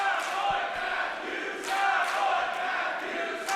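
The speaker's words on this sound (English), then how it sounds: "Dueling chants here." Arena crowd at a SHIMMER women's wrestling championship match in Canada breaks into dueling chants, a steady dense roar of many voices with rhythmic swells rising and falling throughout.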